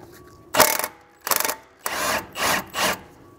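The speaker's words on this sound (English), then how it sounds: "I'm going to use an 18 on my impact gun to zap it off." Impact gun with an 18mm socket hammers at a rusted tie rod end on a 2003-2014 Volvo XC90, giving five short close bursts of rattling impacts separated by brief pauses.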